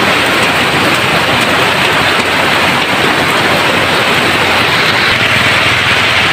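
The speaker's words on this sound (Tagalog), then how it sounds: "Lumakas na ang ulan." Heavy rain pours down in a dense, steady hiss close by, loud and constant with no letup and no voices over it.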